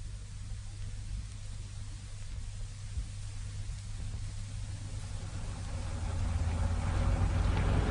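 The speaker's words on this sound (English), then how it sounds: "My Timothy, this traffic really is appalling" Steady low engine rumble of a car driving through traffic, a radio drama sound effect, holding constant and swelling slightly louder toward the end, with no voices.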